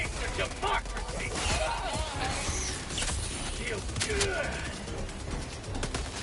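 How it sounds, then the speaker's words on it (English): Explosions and gunfire fill a Helldivers airstrike: repeated bursts and crackling blasts over continuous battle noise, with voices talking over the din throughout. "Requesting air support! Airstrike going in back there."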